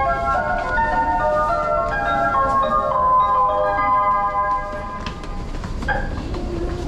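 A Tokyo Metro train at Shinjuku-sanchome Station on a morning platform, with steady rumbling and screeching tonal wheel and motor whine throughout, loud and close, the pitch shifting as the train moves.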